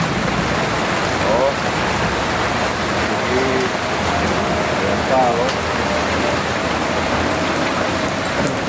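Heavy rain pours steadily during Typhoon Inday, a loud unbroken hiss of drops striking surfaces, while someone speaks briefly over it.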